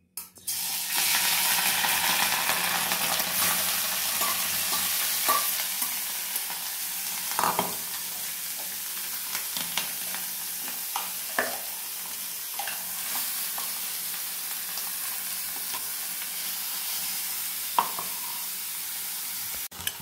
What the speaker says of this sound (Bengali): আর এখানে আমি এই মটরশুঁটিটা আর পনির আর গাজরটা একসাথে একটু সাঁতলে নেব।